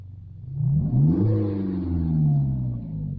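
A 2020 Peugeot 3008 SUV engine revs up in sport mode, pitch rising in stepped surges before settling into a steady, throaty drone; close and fairly loud, no talking.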